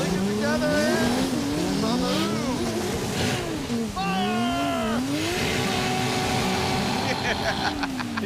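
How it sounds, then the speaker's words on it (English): A Dodge Charger engine revs hard and repeatedly bounces off its rev limiter, with rising and falling whining sweeps and tire squeal mixed in, loud and close, while people talk over it throughout. "He doesn't care about the rev limiter at all."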